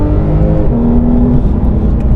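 Road-legal car engine heard from close by, a loud, deep, steady droning roar with slight pitch shifts as it revs.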